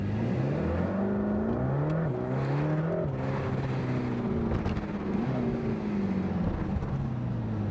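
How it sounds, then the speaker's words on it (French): A Mercedes-AMG GT Black Series accelerates hard on a race track, the engine note climbing through repeated rising sweeps and gear changes, loud and sustained with a rough, droning roar throughout. "Ça accélère très fort."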